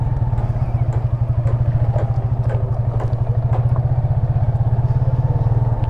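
Motorcycle ridden over a rocky road, its engine pulsing in a fast, steady rhythm close up, with scattered clatter and knocks from the stones throughout and no talk.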